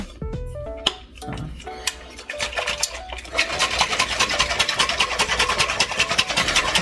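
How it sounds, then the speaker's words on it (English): A protein shake is shaken hard in a container: a few scattered knocks and rattles first, then a fast, loud, continuous rhythmic sloshing and rattling that builds and keeps going. "I need to shake it properly. I need to shake it some more."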